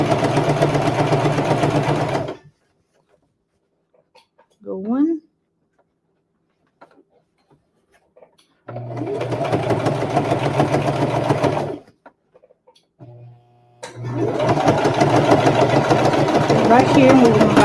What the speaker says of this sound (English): So now we're just going to keep sewing.